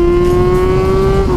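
Hard braking on a motorcycle ridden with a passenger, the rear wheel locking and skidding in a steady, loud squealing tone that holds briefly before shifting at the end.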